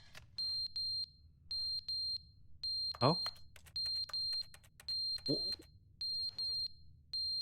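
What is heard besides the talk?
smoke detector alarm going off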